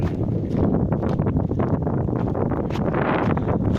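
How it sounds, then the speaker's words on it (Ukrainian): Steady, rough wind buffeting close to the microphone beside a grain trailer on a farm, a dense continuous roar with gusty fluctuations and no voices. "Вітер, звісно, задуває."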